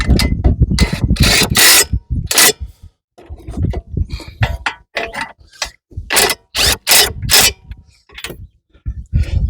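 Brake caliper bolts being threaded and snugged on a 2017 Honda CR-V, with close, loud bursts of ratcheting clicks and metallic clanks broken by short pauses.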